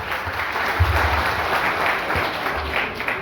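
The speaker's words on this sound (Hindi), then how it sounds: "जोरदार तालियां" Loud, dense audience applause at a mushaira poetry gathering in Bareilly, a continuous close crackle of many hands clapping with a few heavier low thumps, sustained evenly for a few seconds.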